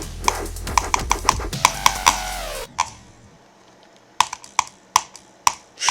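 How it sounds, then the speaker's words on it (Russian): A computer keyboard being pressed, a rapid burst of sharp clicks followed by a pause and then a few scattered, separate keystrokes, close and distinct over faint game sounds. "Вот это я нажимаю, блядь, на клавиатуру."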